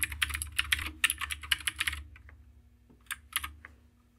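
Quick bursts of keystrokes on a computer keyboard while code is typed, close and crisp, with a short pause before a final brief flurry of clicks.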